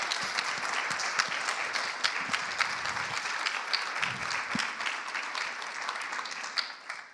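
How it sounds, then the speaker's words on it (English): Audience applause at a closing conference session, honoring patient partners; sustained, fairly distant clapping from a large room, with a few sharper individual claps standing out near the end. "can we give a round of applause to our patient partners?"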